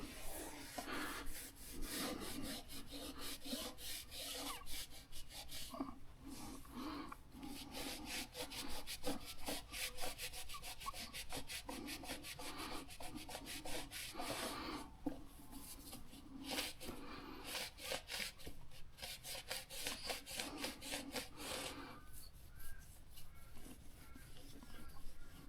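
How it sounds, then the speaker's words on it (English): Drag bike parts are polished by hand with continuous rhythmic rubbing and scrubbing strokes, close and fairly quiet, with brief pauses along the way. "It's a bit of a workout polishing things."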